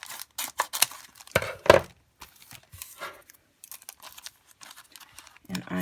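Scissors snip and tear through Dollar Tree paper butterfly cutouts in a quick series of crisp, close cuts and crinkles, with quiet gaps between them.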